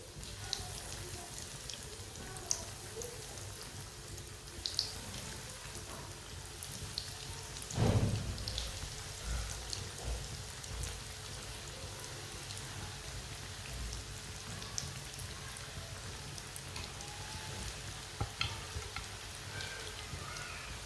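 Potato kebabs fry in hot oil with a steady, fine crackling sizzle that stays even for about twenty seconds. A brief louder burst comes partway through, and no one speaks.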